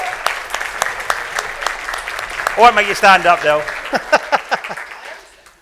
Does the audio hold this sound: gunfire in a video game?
no